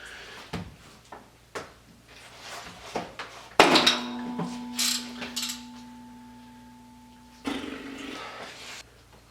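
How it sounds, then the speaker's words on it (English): Wrench levering the AC belt tensioner on a BMW E46 engine: scattered metallic clicks and clanks, then a sharp loud clank with a ringing metallic tone that fades, followed by another clunk. "Just push down on the spanners with your wrench."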